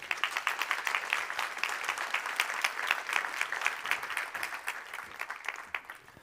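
A conference audience at GreenTech Days 2022 claps for a speaker coming on stage, giving a sustained burst of many hands with crisp individual claps, lasting several seconds before thinning toward the end.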